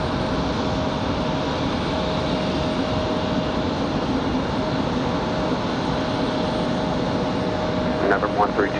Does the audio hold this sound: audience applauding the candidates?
no